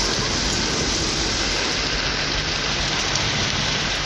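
Heavy rain pouring down for over an hour in Tamil Nadu, a dense, steady hiss of rainfall that is loud and unbroken throughout, with no voices.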